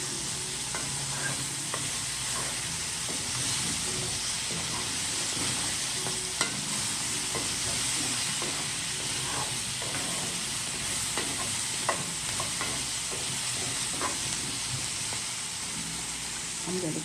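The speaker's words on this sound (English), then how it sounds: "I'm going to stir these potatoes one more time" Potatoes fry in a hot skillet under a loud, steady sizzle while a utensil stirs and scrapes through them with intermittent clicks.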